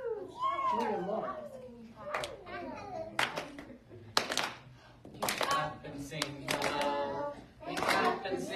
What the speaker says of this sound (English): We clap and sing hello.